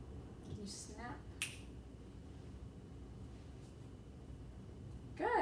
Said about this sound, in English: How about snapping your fingers?